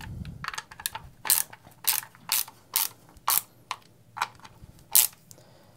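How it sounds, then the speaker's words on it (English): Screws being tightened on a RAM Roto View adapter plate, about ten sharp ratcheting clicks in an even rhythm, close and clear against a quiet background. "you just tighten down on the screws while bracing the two components away from each other"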